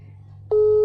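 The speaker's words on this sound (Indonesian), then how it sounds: "Coba kita telepon." An outgoing phone call gives a quiet line hum, then a loud steady electronic ringing tone cuts in halfway and holds to the end.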